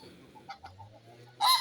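Araucana chickens in a poultry yard, a few soft clucks followed by a louder, brief squawk close by, with no talking.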